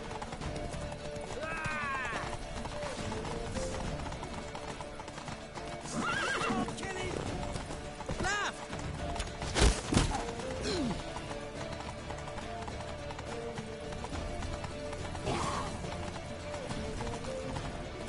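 Horses gallop with rapid clip-clop hoofbeats in The Witcher 3: Wild Hunt, with loud neighs and whinnies cutting through, and shouted voices in the mix.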